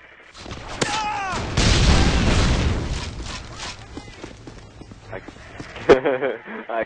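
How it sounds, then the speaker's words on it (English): Call of Duty MW3 explosions roar as a dense burst of booms and crackling blasts, with scattered gunfire around it, while players talk over the game sound. "Everything just exploded."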